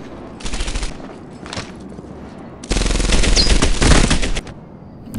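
Machine gun nest firing in the World War II shooter Medal of Honor Airborne: loud rapid bursts of automatic fire, two short volleys then a longer sustained burst of nearly two seconds, with quieter gaps between.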